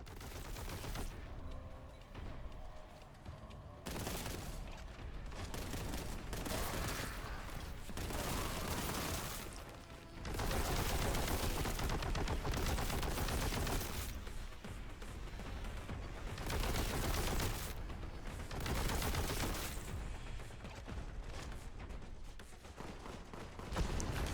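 Rapid gunfire from the video game Warhammer 40K: Boltgun comes in dense bursts and volleys, with loud booming shots packed together and brief pauses between flurries, no talking over it.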